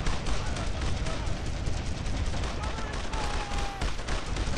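Suppressing gunfire in Brothers In Arms, a dense, continuous rattle of rapid shots and booms filling the whole stretch, loud and close, with faint voices underneath.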